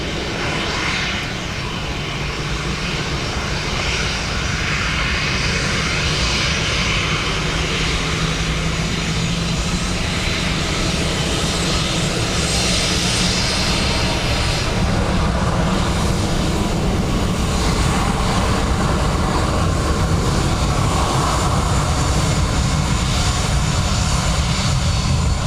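A Ryanair airliner's jet engines roar loud and steady at Dublin Airport in wet weather, a broad continuous rumble that swells slightly over nearly half a minute, with no one speaking.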